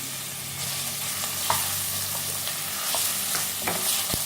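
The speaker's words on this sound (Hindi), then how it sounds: "तो ऑयल हमारा गर्म हो चुका है। इसमें डालेंगे हम ओनियन।" Onions frying in a tablespoon of hot oil in a pan for a Sindhi-style fish curry, a steady close broadband sizzle with occasional clicks of stirring throughout.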